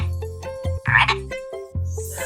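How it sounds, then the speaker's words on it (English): A frog croaks in a short series of rhythmic, harmonic bursts separated by brief pauses, close and fairly loud, alongside a cartoon-like animal sound sequence for toddlers. "Frog! Ribbit!"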